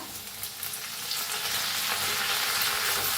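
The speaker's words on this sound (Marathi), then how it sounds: "त्याला हलवून भाजून घेऊया चांगलं भाजले" Mustard seeds, cumin, asafoetida and crushed garlic fry in hot oil for kadhi while being stirred, a bright crackling sizzle that swells louder after the first second and holds steady without speech.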